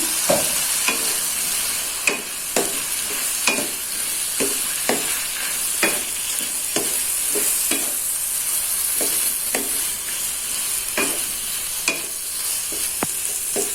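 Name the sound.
chicken liver and gizzard stirred and frying in potato sambal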